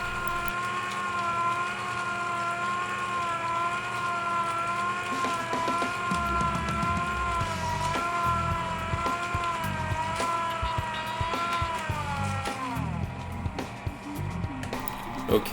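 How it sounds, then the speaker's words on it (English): An electric ice cream maker's motor hums with a steady whine that wavers, then sags and drops in pitch as it starts to strain near the end. "Eventually, you're going to start to hear the motor start to struggle."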